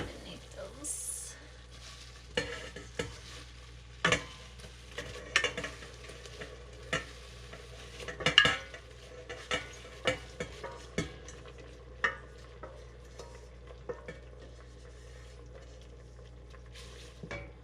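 Nettles frying in oil with garlic and flour in a pan, stirred with a utensil that clinks and scrapes in repeated strikes over a steady low sizzle, with a faint voice now and then.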